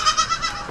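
A small goat on a farm bleats in a quick series of short, wavering, nasal cries, close and clear, with no talking over it.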